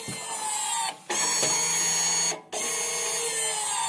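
Electric whirring of the rear brake cylinders on a VW Golf VII being moved by their motors during brake adaptation, a high mechanical buzz running in three stretches with two short gaps between.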